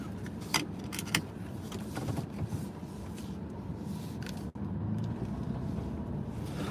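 Keys jangle in a few short bursts near the start before a car's engine and cabin noise carry on at a low, steady level, broken by one sharp click or thud midway.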